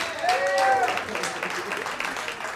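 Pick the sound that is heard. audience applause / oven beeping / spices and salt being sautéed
audience applause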